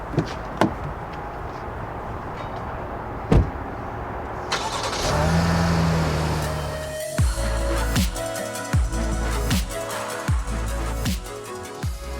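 A 2020 Chevrolet Blazer RS sounds with clicks and a door closing, then an engine starting and running with recurring thumps and a steady mechanical hum, close by and with no talking.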